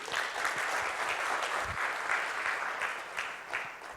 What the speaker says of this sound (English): Can you have a round of applause for the students?